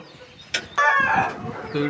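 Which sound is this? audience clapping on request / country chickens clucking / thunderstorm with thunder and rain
country chickens clucking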